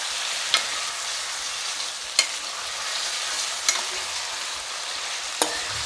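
Chicken curry cooking Hyderabad style, a spoon stirring and scraping through it in a pan with a steady soft sizzle underneath and a few sharp clinks of the utensil against the pan.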